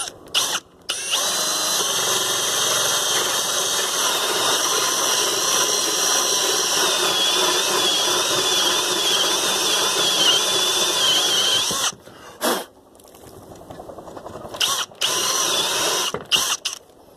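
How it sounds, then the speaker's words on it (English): A hole saw in a power drill bores steadily through wood for a wooden post vise project, a loud, continuous whirring grind that runs for about twelve seconds, then cuts out, followed by a few short revving bursts. "Then I will go to the hole saw."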